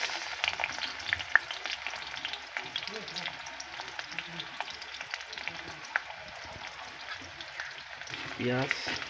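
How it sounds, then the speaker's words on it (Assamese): Onions fry in hot oil, a steady, fairly quiet sizzle with crackles and occasional stirring scrapes, with a faint voice in the background. "তেল গৰম হৈ গ'ল। এতিয়া দিছো পিঁয়াজ।"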